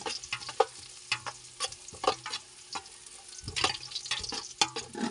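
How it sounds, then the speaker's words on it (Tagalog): Ginger being sautéed in a pan for chicken arroz caldo, with a soft sizzle broken by repeated scraping and stirring strokes of a spatula at close range. There is no talking. "gisa na po natin ang ating"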